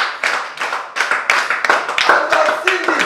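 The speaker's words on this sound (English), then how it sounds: "Clap for the mark from there." Children in a primary school mathematics classroom clap together in quick, uneven bursts, loud and close for about three seconds, with voices mixed in.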